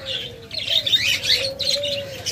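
Caged pet budgerigars, cockatiels and lovebirds chirp in quick, overlapping bursts over a thin sustained whistle, fairly close and moderately loud, with no talk.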